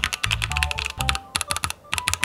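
Rapid typing on a Keychron Q12 mechanical keyboard fitted with Gateron G Pro red switches, a dense run of close, crisp key clacks with a few deeper thocks from larger keys and brief pauses between bursts.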